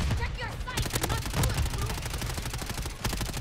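Rapid automatic gunfire from the Call of Duty MW3 video game comes in dense, loud bursts with a near-continuous rattle, and a voice speaks faintly under the shooting.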